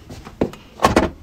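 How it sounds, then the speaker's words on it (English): A large cash box with a combination lock is set into a drawer, giving a few short knocks and then two firm, close thuds as it slides in and settles, with no talk. "I can just put it in my drawer"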